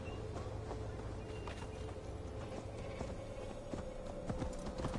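Horse hooves clip-clop steadily while riding through a forest in Gloucestershire in the video game Assassin's Creed Valhalla, with a faint mechanical rattle and an ambient drone underneath.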